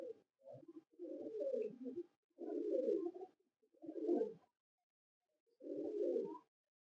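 Pigeons coo in a series of five low, throaty bursts with short pauses between them, fairly close and alone with no talk; these are high-flying birds kept by a fancier.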